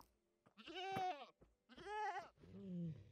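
Goats bleat three times in the Minecraft video game, drawn-out wavering calls spaced about a second apart, loud and close with quiet gaps between them, no talk heard.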